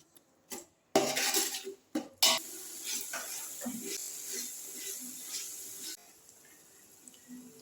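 Biryani masala with ginger and garlic is stirred and sautéed in a pot, with scraping spoon strokes and clinks of metal that give way to a soft, steady sizzle.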